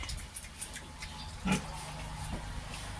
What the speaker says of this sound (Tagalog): This is my pig. Native pig. Organic. Organic pig.